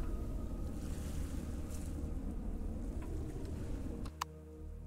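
Water waves in the video game Empyrion Galactic Survival produce a steady, fairly faint rushing wash. Near the end it cuts off abruptly to a brief click and a low hum.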